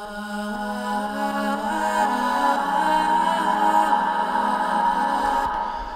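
Dense, washed-out sustained tones swell and blur together with a long lingering tail of nearly ten seconds, sounding like a heavily reverberated vocal pad.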